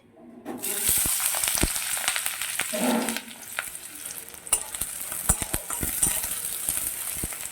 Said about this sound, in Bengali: তেলটা আমার গরম হয়ে গেছে আমি দিয়ে দিচ্ছি একটু কুচো করা পেঁয়াজ